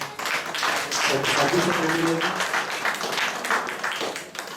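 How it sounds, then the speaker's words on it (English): Audience clapping at a medical CME conference swells into a broad wash of applause lasting several seconds, fairly close and steady, with a faint voice underneath. "I think he deserves a big hand and big applause for that."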